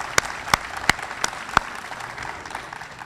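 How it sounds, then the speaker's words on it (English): A few distinct, sharp claps ring out at a library and learning center grand opening and ribbon-cutting, about five separate hand claps spaced unevenly over a quiet room, fading to near silence. "that deserves applause"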